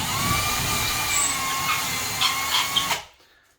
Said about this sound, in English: drill the next holes, put those in